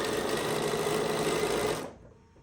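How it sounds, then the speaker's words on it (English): Sewing machine stitching a quarter-inch quilt seam, a loud steady run of rapid motor whir and needle chatter for nearly two seconds, then abruptly winding down to near silence. "I'm just going to stitch down the side with a 1/4 inch seam"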